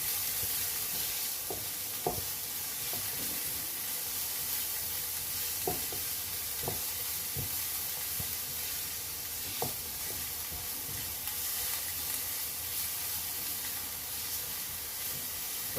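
Green pepper and garlic with a pinch of salt sizzle steadily in a pan, a continuous close frying hiss with occasional stirring clicks and pops, no talking.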